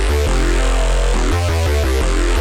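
A bass patch from the Vital synth, processed with effects, plays a loud, dense, sustained line with a few pitch changes, full and compressed, with no voices present.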